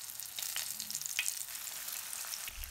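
Crayfish fry in hot oil in a pan over medium heat, giving an even, close sizzle with light crackling and brief spits, steady throughout and unaccompanied by speech.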